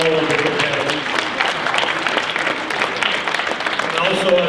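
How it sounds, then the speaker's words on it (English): Applause at a high school auctioneer contest for the competitors: a crowd claps in a dense, steady patter of many hands, moderately loud and sustained, with some voices mixed in. "I think they deserve another great big round of applause for all of the competitors."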